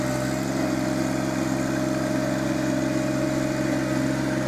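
A John Deere 1025r tractor pulling a Land Pride soil pulverizer, its engine holding a steady, loud drone close by, with a constant hum and no speech.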